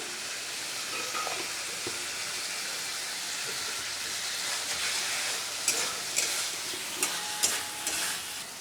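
Fish curry masala sautéing in oil in a pan, cooked down with splashes of water, a steady close sizzle with scraping stirs and a few sharp spoon clinks toward the end.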